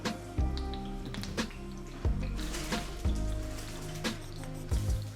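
Soaked rice being washed in a pot, water sloshing and dripping with repeated splashes at irregular intervals, close up, with no talking.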